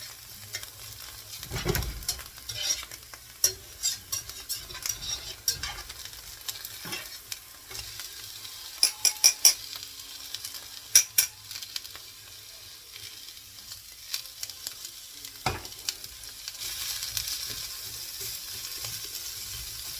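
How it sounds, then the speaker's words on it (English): Onions are tipped into potatoes frying in a pan and stirred, producing a low, steady sizzle broken by scattered utensil clinks and scraping stirs, with a louder burst of hissing near the start. "I'm going to add the onions"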